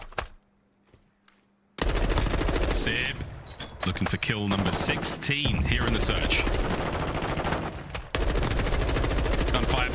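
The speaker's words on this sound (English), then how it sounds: "Gunfire prattling out across the map." Rapid automatic gunfire and bursts of shots in a Call of Duty League match, Seattle Surge versus Los Angeles Guerrillas, loud and dense after a quiet start, with a caster talking over the action.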